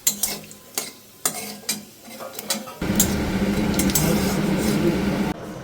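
Cumin, bay leaf and dried chilli hit hot oil with a sudden loud, sustained sizzle, preceded by several sharp kitchen clatters and taps.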